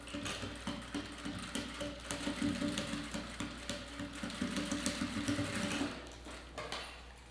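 A sewing machine topstitches a shoulder bag seam, its needle running in a steady rapid chatter for about six seconds before stopping, close and alone.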